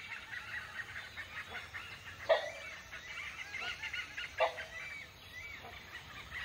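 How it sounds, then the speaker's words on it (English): Rufous-necked hornbill giving a few loud, hoarse calls in Thai forest, two strong bursts standing out over steady insect and bird chorus, fairly near. "This is the brown hornbill. The rufous-necked hornbill."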